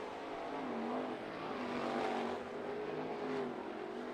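Sprint cars race on a dirt track at Bubba Raceway Park, a dense, loud engine roar with overlapping machines rising and falling as they circle nearby.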